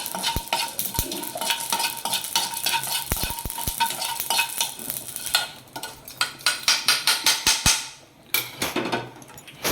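Whole garam masala spices frying in a pan for paneer masala, with a soft sizzle under repeated scraping and tapping of a spatula stirring against the pan, growing busier toward the end.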